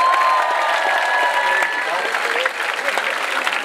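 Concert audience applauding at a live show in Athens, dense steady clapping mixed with crowd noise and a few whistles, loud and close throughout, with voices mingled in the din.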